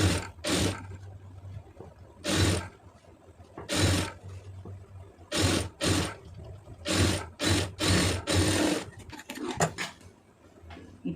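A sewing machine stitches along the edge of a sleeve in a series of loud, close whirring bursts of about a second each, separated by short pauses, with a quiet low hum underneath.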